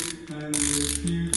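Ratcheting socket wrench being turned, sounding a steady run of fine metallic clicks from the pawl dragging back, close and fairly loud with no talk.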